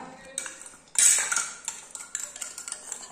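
A spoon scrapes and clinks against a metal pot while pumpkin is stirred for a Bengali pumpkin and pui shak dish, irregular taps and scrapes close by, with a louder clatter about a second in.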